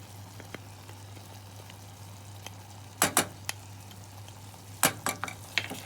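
Cooked onions and honey are stirred in a pan for sweet Moroccan couscous, a soft low sizzle under a few sharp scraping strokes of the spoon in short clusters, with no talking.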